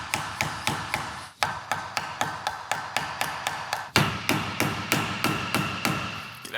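Sharp metallic hammer taps strike a power steering pump to knock it loose from its reservoir, about three per second in an even rhythm with a brief pause midway, close and clear with no talking.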